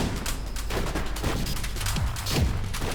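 Grenade launcher fire in the shooter game ADACA: a dense barrage of booming explosions and rapid gunfire, continuous and loud throughout, with thuds and sweeping blasts layered together.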